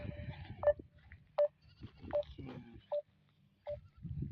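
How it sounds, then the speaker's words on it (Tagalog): Boer goats on a farm bleat in a series of short, separate calls spread across a quiet background, each cry sharp and fairly close. "Nandun yung mga kambing natin."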